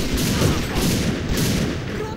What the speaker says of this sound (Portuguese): Eu tô atirando no cara e eu não mato.